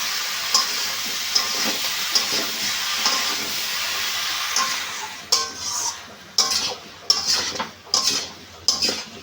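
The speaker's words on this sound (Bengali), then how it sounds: "এইভাবে আমি ভালো করে কষিয়ে কষিয়ে মশলার সঙ্গে কষে নিয়েছি" Mixed vegetables for a five-vegetable curry with fish head sautéing with spices in a pan, a low steady sizzle that gives way to loud, irregular scrapes and clanks of a spoon against metal.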